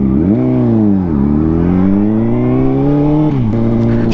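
A 2005 Honda CBR 600RR motorcycle engine revs hard and close, its pitch climbing, dipping, then rising again in a loud sustained howl with a brief drop near the end.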